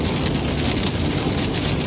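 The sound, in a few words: rain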